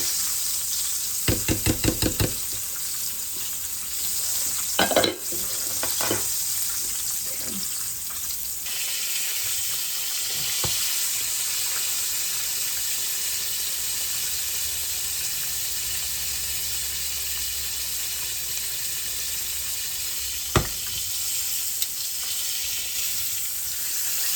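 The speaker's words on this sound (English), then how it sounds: "I'm going to add some butter to my mushroom and onion" Mushroom and onion sizzle in butter in a pan with a constant hiss, broken by scattered clacks and knocks from tongs and utensils and a few short rattling bursts.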